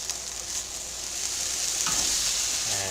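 Home-canned food cooks down and sizzles steadily in a pan, a continuous close frying hiss with a faint scrape partway through and no talking.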